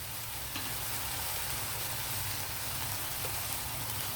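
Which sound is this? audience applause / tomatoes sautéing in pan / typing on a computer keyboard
tomatoes sautéing in pan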